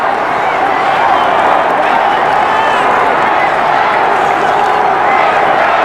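A stadium crowd roars steadily at the 1998 Round 22 Brisbane v St Kilda football match, a loud, sustained wash of cheering that persists without a break beneath a commentator's voice.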